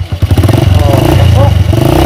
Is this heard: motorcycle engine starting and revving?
yes